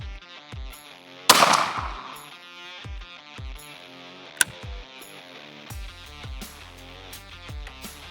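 A single loud .410 shotgun blast fired at a turkey target from 40 yards, sharp and close, with its report ringing briefly over background music.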